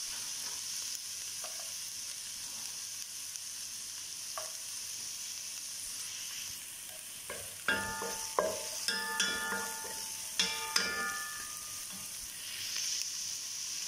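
Leftover food being stirred and fried into fried rice in a pan: a steady low sizzle with faint clinks at first, then louder scraping and clattering of a utensil against the pan in quick bursts.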